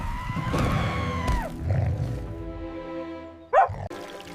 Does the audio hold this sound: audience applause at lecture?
no